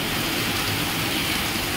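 Heavy rain pours down during the monsoon season, a loud, dense and unbroken roar of falling water that stays steady from start to finish and has no voices over it.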